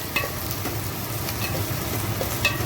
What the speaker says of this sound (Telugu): మటన్ కర్రీకి ముందుగా ఉల్లిపాయలు, పచ్చిమిరపకాయలు నేను నూనెలో వేసుకుంటున్నానండి